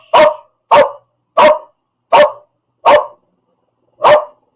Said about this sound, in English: And now we have a dog that's barking.